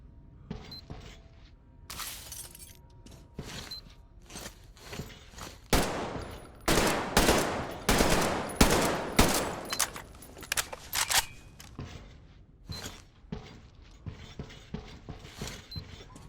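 Weapons test-fired at targets in the video game Metro Exodus, starting with mechanical clicks and creaks, then loud bursts of automatic gunfire and rapid repeated shots in uneven volleys, tapering off into scattered single cracks.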